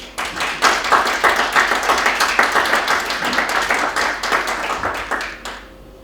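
Audience applause at a book presentation event, steady dense clapping from a seated crowd, loud and close, lasting about five seconds before tapering off abruptly.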